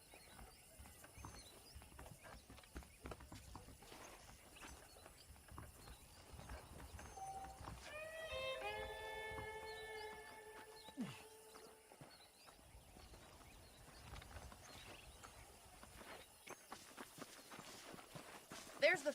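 Horses walk along in the video game Red Dead Redemption, their hooves clip-clopping in soft irregular steps under faint background ambience, with a brief whinny-like tonal call in the middle and no clear talking.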